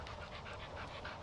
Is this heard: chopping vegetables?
no